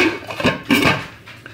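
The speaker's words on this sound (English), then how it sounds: "I'm just going to pop the lid back on." A metal lid clatters back onto a cooking pot of pulled pork, a couple of quick clinks and a settling rattle, close and alone.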